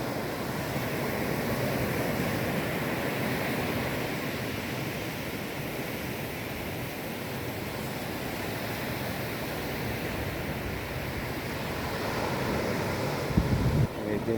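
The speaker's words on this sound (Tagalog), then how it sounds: "Medyo malalaki ang gulong ng alon." Steady roar of big surf rolling onto a black-sand beach at Nasugbu, Philippines, a continuous broadband wash with wind buffeting the microphone throughout.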